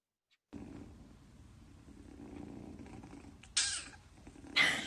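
A cat purring close to the ear, a low continuous rumbling vibration that starts abruptly and swells slightly, interrupted by a couple of brief louder hissy bursts near the end.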